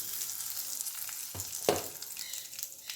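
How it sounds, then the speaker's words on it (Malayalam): Fenugreek, asafoetida, mustard seeds and other spices sizzling and frying in hot oil in a pan, a steady close crackle with a couple of brief louder spits of stirring, no talk. "ഉലുവ, കായപ്പൊടി ഇതെല്ലാം ഇട്ടൊന്ന് നന്നായിട്ടൊന്ന് മൂപ്പിക്കുക"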